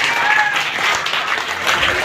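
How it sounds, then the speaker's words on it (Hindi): Loud crowd applause at a Hindi Diwas school function, steady clapping from many students and guests lasting a couple of seconds with some faint voices mixed in. "इनके लिए पुनः जोरदार तालियां।"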